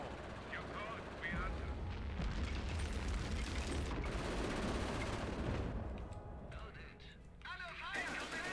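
Gunfire and battlefield explosions in the World War II strategy game Company of Heroes, a continuous rumbling clatter of shots and booms at moderate distance, with voices talking over the combat.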